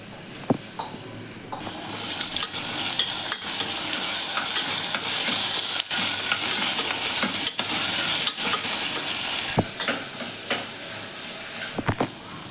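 Chili paste for a gorikayi (cluster bean) palya goes into a pan and fries with a steady, broad sizzle while a spoon scrapes and stirs in irregular knocks; the frying stays close and loud through most of it without any talking.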